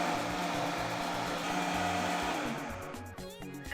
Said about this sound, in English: I'll take about a cup of the Bambara, pour into my blender. I'm going to add some palm oil